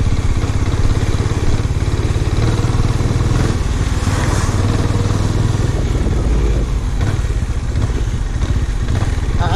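A Benelli Imperiale 400 motorcycle runs continuously on the road, its thumping single-cylinder engine loud and close with steady rumble and mild clatter throughout, no voices.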